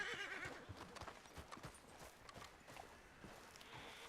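Horse hooves clip-clop steadily in Red Dead Redemption, and a loud neigh and whinny rise over the hoofbeats at the start. Faint game ambience runs underneath.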